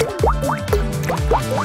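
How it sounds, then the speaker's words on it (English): Colored silicone mix drips drop by drop onto a pumice stone, giving a run of close, distinct plopping drips with bouncy pitch glides, four or five in quick succession. "Drip the mix onto a pumice stone, drop by drop."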